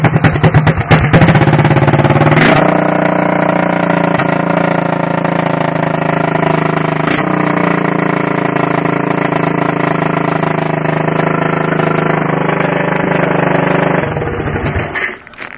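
An old Honda ATC three-wheeler engine fitted with a pit-bike CDI ignition is pull-started, catches with a rattle and settles into a loud, steady, close-up idle before cutting off.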